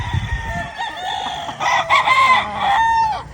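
A six-month-old Sweater x Gilmore gamecock rooster crows loudly and close by, a single long drawn-out crow with a rising, wavering call, preceded by faint clucking and rustling.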